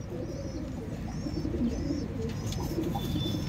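Pigeons keep up a continuous low cooing, a few birds murmuring together close by, with faint higher chirps now and then and no voices.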